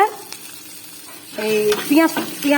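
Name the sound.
onion and green chilli frying in oil with cinnamon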